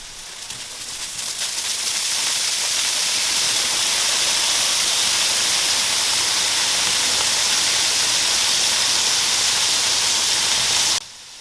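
Beer is poured onto Romanian mici sausages sizzling on a grill, and a loud, steady hiss of steam swells and holds for about nine seconds before cutting off abruptly.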